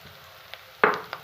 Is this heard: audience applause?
no